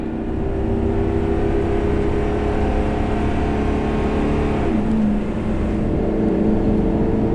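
A 2009 Damon Daybreak Class A gas motorhome with a Ford TorqShift transmission accelerates, its engine droning loud and steady from inside the cab with a smooth gear change partway through, and nobody talks.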